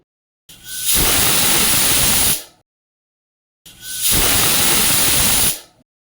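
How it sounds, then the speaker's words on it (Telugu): A pressure cooker steaming kushka, a Rayalaseema-style plain biryani made with small chitti muthyalu rice, lets out two loud, close bursts of hissing steam and whistle. Each lasts about two seconds and is separated by silence. "ఇప్పుడు ప్రెషర్ కుక్కర్ విజిల్ పెట్టుకోవాలి"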